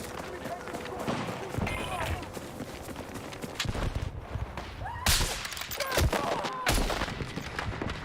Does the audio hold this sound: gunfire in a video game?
yes